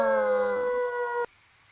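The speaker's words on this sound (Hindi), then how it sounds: "भेड़िया" A wolf howls in one sustained, close, loud, tonal cry that holds steady, then cuts off abruptly, leaving near silence.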